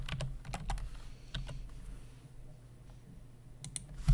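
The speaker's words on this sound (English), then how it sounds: "baby is going to type in Greenwood in the city search on the top right" Typing on a computer keyboard while entering a city name into a search box, with clusters of quick, close clicks in bursts, a quieter pause in the middle, then a few final keystrokes over a low background hum.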